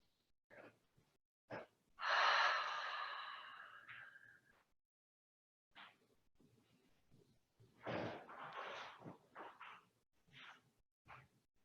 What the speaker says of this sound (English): a few open mouth exhales here